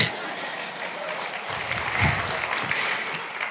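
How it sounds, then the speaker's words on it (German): Audience applause in a hall, a steady dense wash of clapping that swells slightly around the middle and carries on throughout without pause. "Das wäre jetzt der Moment für einen Applaus eigentlich."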